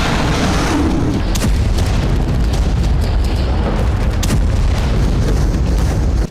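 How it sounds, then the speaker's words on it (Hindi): A missile launches from Guam in an interception test against a ballistic missile, heard as a loud, sustained roaring rumble with crackling bursts and sharp flares running the whole way through. "इस वीडियो में गुआम से एक मिसाइल लॉन्च होती है जो सीधा एक बैलिस्टिक मिसाइल से जाकर टकराती है।"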